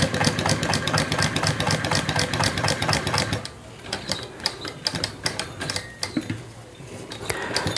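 A hand-cranked sewing machine stitching fabric around a curve, its needle chattering in a fast, even rhythm that loosens midway into slower, uneven clacks as the crank turns, close and clear with no talk.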